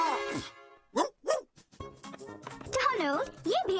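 A cartoon dog barks and yips in short bursts mixed with lively character voices talking over and between them, all close and clear.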